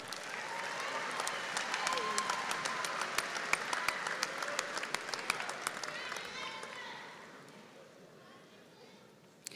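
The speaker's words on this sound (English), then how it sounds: "Please give these graduates a round of applause." Applause for graduates at an Angelo State University fall commencement ceremony, a large audience clapping steadily with sharp individual claps standing out near the front, gradually thinning and fading over about nine seconds.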